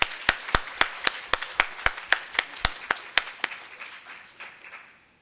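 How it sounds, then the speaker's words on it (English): Audience applause for the CARE leadership team at a Stanford Medicine presentation: about a dozen sharp, evenly spaced claps stand out over a softer spread of clapping, then the sound thins and fades out. "Can we have a round of applause for these outstanding leaders?"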